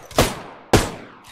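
Two sharp weapon shots from Apex Legends crack close and loud about half a second apart, each trailing off into a short echoing decay, followed by a faint third tail.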